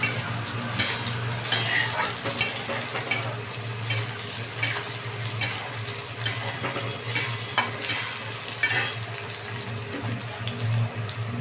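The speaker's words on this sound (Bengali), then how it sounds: "পেঁয়াজটা একটু ভাজা ভাজা হবে, শ্যালো ফ্রাই হবে।" Chopped onion shallow-frying in oil in a pan, a steady close sizzle with repeated scraping stirs in an uneven rhythm, fairly loud and continuous with no voices.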